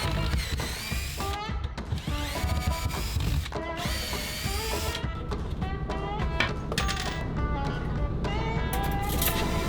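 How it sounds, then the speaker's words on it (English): A power drill whirs in bursts, drilling holes through an RV cabinet to install a microwave, starting and stopping several times, with clicks and handling noise between runs. "We're going to drill a couple holes through the top cabinet"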